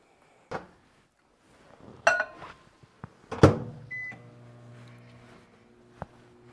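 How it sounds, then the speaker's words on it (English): Door clunks and button beeps, then a microwave oven melting caramel starts with a steady low hum and ends with a beep, close by. "I'm going to melt my caramel in the microwave."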